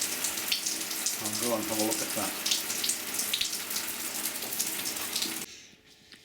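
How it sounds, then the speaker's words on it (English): Cold water keeps running from an Aqualisa shower, a steady rushing spray with someone briefly talking over it, until the flow cuts off abruptly near the end. "the cold water is still running"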